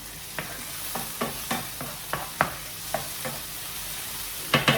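Onions fry in a pan with a steady background sizzle, broken by regular close scrapes and taps of a utensil stirring them at an even pace, no speech.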